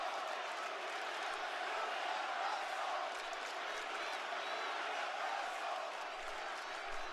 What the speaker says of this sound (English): So now they're chanting, who can't wrestle?